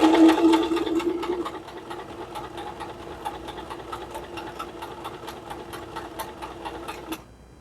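Butterfly sewing machine stitching a buttonhole with a buttonhole foot, a steady rapid needle chatter with a brief louder whir at the start, running alone before stopping abruptly near the end.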